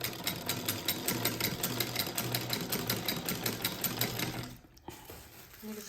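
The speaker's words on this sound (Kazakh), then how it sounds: "Міне осындай ескі машинкамен көрпе тігуді үйренеміз" An old sewing machine stitches a quilt, running in a fast steady mechanical chatter at close range, then stopping abruptly near the end before a brief restart.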